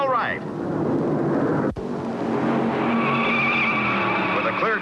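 Stock race cars roar past on the track at the 1957 Southern 500 after a wreck clears, engines loud and sustained with rising and falling pitch as cars pass, under a narrator's voice.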